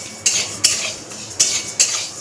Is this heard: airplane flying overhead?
no